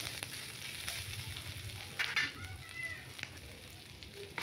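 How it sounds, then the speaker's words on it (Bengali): Lote shak chochhori, a Bengali fish curry, frying in a kadai while it is stirred. A steady close sizzle carries scraping stir sounds and a brief louder burst midway, with no talking. "লোটে শাকের চচ্চড়ি দিয়ে দিয়েছি। ভালো করে নাড়ছি এটাকে দিয়ে, চচ্চড়িকে।"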